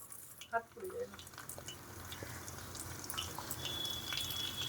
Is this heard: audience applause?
no